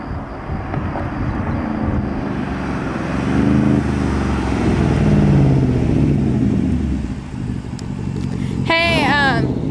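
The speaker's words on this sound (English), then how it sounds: "This is still really loud, but I personally think the sound and the tone and the depth of it is so much better." Deep, throaty straight-piped exhaust of a Porsche Cayenne Turbo rumbles and swells as it revs, loud and close, with a voice briefly cutting in at the end.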